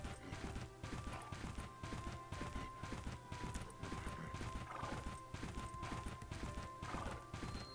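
Rapid rhythmic horse hoofbeats from the Bella Sara video game clop continuously and loudly, with faint whinny-like tones surfacing briefly in the middle and near the end.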